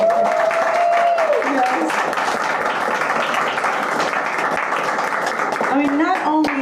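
A house concert audience applauds a storyteller. Steady clapping holds for several seconds, with a voice heard at the start and again at the end.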